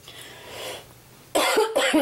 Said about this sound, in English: I didn't want to cough on the paper.